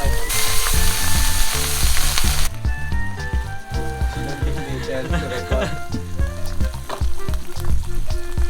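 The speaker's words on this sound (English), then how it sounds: "Check our deep fried. Deep fried pork meat." Pork meat deep frying in hot oil, a loud continuous close-up sizzle with bursts of crackling and scraping stirring clatter running throughout.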